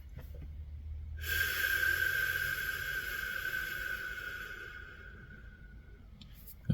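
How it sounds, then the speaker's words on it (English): A long, slow, deep breath drawn in during a breathing exercise, one steady airy rush lasting several seconds, close and fairly loud, with no talk over it. "I'm going to do a series of deep breathing."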